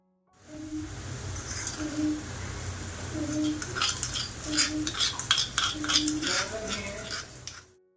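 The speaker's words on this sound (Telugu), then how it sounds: "అల్లం వెల్లుల్లి పేస్ట్ పచ్చివాసన పోయేంత వరకు ఫ్రై చేసిన తర్వాత" A metal spoon stirs ginger garlic paste with onions in a pan, with repeated clinks and scrapes against the vessel and a faint frying hiss underneath, steady and close throughout.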